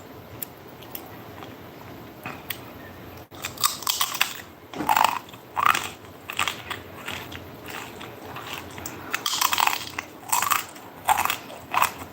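Crunchy cookie-like crackers are bitten and chewed close to the mic, with repeated brittle crunches and crackles in irregular bursts after a quiet start.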